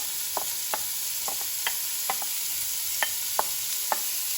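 Finely chopped onions cooking in oil in a pan over lowered heat, a soft steady hiss broken by light regular taps and scrapes of stirring, fairly quiet, no voices.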